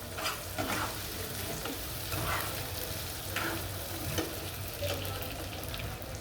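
Chopped tomato frying in a pan for a fish kofta curry, a steady crackling sizzle with occasional stirring scrapes throughout, close and continuous with no voices.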